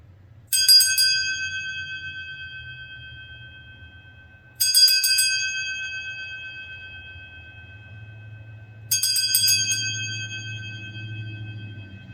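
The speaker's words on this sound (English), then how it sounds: "Just a really beautiful bell." A small handheld bell is struck three times for an energy cleansing, each bright ring sustaining and fading slowly over a low background hum.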